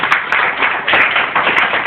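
Church congregation applauding the King during a morning service: dense, steady clapping close by, continuous and without a break.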